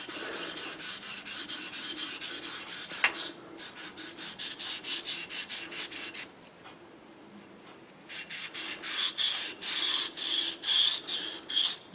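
A Mora 612 knife blade being sharpened, with repeated rasping strokes in steady rhythm, a few pauses and a quiet stretch before the stroking resumes louder and close.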